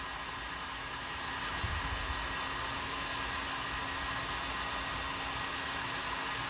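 Heat gun blowing hot air onto pool noodles being bonded together, a steady, even airy whoosh with a low hum that holds at the same level throughout.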